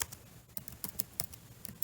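Someone types a database command on a computer keyboard: a quick, uneven run of crisp clicks and keystrokes, close and fairly quiet, with no talking.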